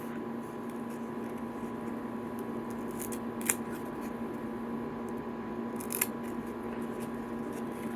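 Scissors cut through the teeth of a Nightmare Cupcake puppet: two crisp, close snips a few seconds apart over a steady low hum, with no talking.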